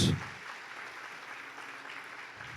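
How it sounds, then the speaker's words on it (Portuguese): A church congregation applauds, a steady patter of many hands clapping at moderate volume after a brief louder onset. "Salva de palmas para Jesus."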